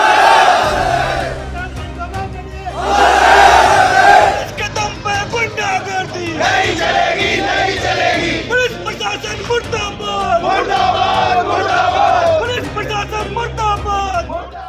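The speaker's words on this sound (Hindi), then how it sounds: "सड़कों पर हंगामा, आक्रोशित भीड़ और नारेबाजी" An angry crowd in a street protest in Rajasthan, a loud mass of voices shouting slogans in surging waves, with a strong chanted swell early on and continuous babble throughout.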